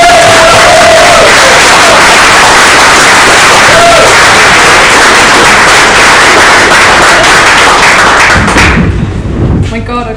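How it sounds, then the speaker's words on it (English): Audience at a talk breaking into loud, dense applause and cheering, a sustained roar of clapping close and overpowering that cuts off sharply near the end. "you should clap really loudly"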